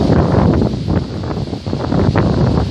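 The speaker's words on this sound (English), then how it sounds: "It's windy." Strong wind buffets the microphone in a loud, continuous rumble with gusty surges throughout, no voices present.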